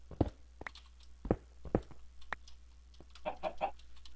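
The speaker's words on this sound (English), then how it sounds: "And a chicken, for some reason." A Minecraft chicken clucks in short, separate bursts, a few sharp calls spaced over several seconds and then a quicker cluster of three at the end, fairly close and with no talk over it.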